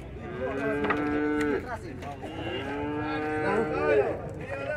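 A young bull at a traditional cattle fair in São Bento do Una lets out long, loud moos, two drawn-out calls close by over a busy crowd murmur.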